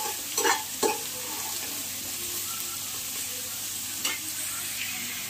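Food is stirred and roasted in a pan over a steady sizzle, with a few sharp scraping clinks of the spoon near the start and another one later. Nobody speaks.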